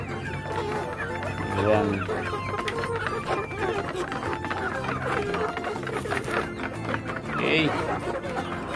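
Rhode Island Red chickens about 100 days old cluck and chatter while feeding, a busy scattered flock sound beneath a voice speaking over it.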